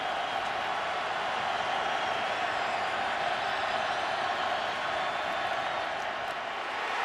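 Stadium crowd at a Florida State vs Louisville college football game, a dense, steady roar of many voices that holds at an even level throughout, with no distinct cheers standing out.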